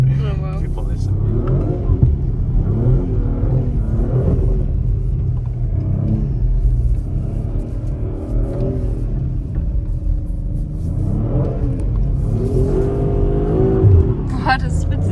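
Audi RS4 B9 engine revving as it pulls a truck out of snow, a loud sustained low rumble with rising and falling revs throughout, close by, with a voice talking over it.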